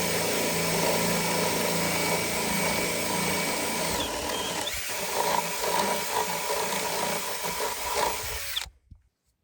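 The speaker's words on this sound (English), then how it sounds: "let's just drill a hole somewhere in the middle. Make sure I'm in the stem wall." A power drill with a 1/2 inch bit boring a hole into a concrete stem wall for stepdown footings on a mountain home build, a loud steady grinding whine that labors and pulses before cutting off abruptly.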